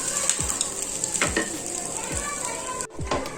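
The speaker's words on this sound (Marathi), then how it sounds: "भाजून घेऊया।" Homemade bread snack sizzling as it toasts in a pan over a low flame, a steady fry hiss with soft scrapes and a couple of turning clatters.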